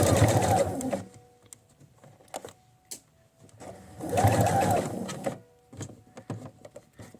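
Sewing machine stitching a seam while easing fabric for a ruffle, two bursts of rapid mechanical whirring, each about a second long, separated by quiet gaps with faint clicks and handling noises.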